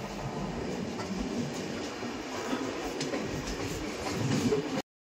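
A passenger train rumbles steadily at Malda Town station, a continuous low rolling noise with faint rail clatter, heard from on board at moderate volume.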